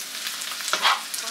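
Fried vegetables for soup sizzle in a hot pan with a soft crackle, and a brief scrape of stirring partway through.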